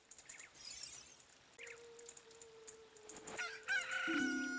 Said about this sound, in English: A chicken hatched from the egg you were incubating.